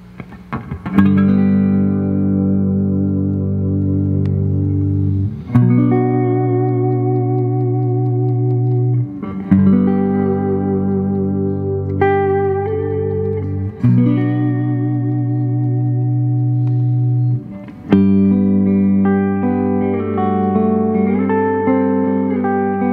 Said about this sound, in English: we're up front with the 1959 Fender Jazzmaster